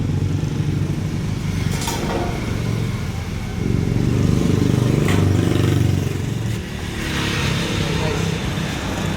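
A motorcycle engine running nearby with a steady, rumbling drone that swells slightly midway, with occasional clattering over it.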